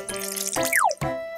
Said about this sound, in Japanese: キュアプリズムにお水をかけて、